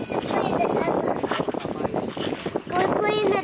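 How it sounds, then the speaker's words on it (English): Strong wind gusts roar and buffet the microphone outdoors beside a deep ditch, loud and continuous, with people talking over it. "It's very windy out here."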